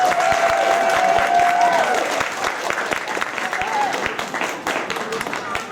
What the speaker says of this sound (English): Let's give the orchestra one more round of applause.